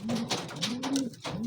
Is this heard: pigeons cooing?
yes